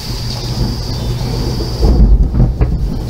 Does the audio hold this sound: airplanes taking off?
no